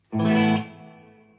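Electric guitar run through effects with Lexicon reverb: one loud distorted chord strikes, holds briefly, then rings out in a long, smooth reverberant tail, heard alone and close.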